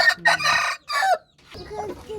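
Several short bursts of chicken clucking and squawking, close by, separated by brief pauses, with quieter scratchy farmyard noise toward the end.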